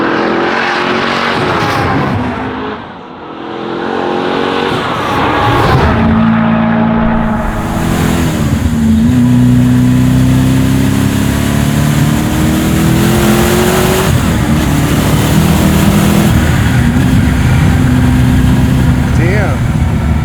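A twin-turbo Ford Mustang engine pulls hard and loud, its pitch climbing steadily in long sweeps as it accelerates under boost, with a constant roaring drone throughout.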